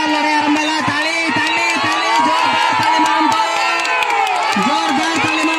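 A crowd cheers and shouts continuously at a traditional fighting match, a loud dense roar of voices and whoops with a commentator's voice running over it throughout.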